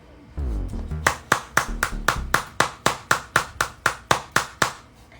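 Rhythmic hand claps strike the bare stomach during a massage routine, about sixteen sharp, evenly spaced slaps in quick succession after a brief softer lead-in, close and clear with no talk.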